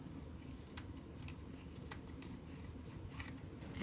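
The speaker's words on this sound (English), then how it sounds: "Then we're just going to trim" Scissors trim a craft card in a few short, crisp snips spaced across a quiet room-tone background, with no talking.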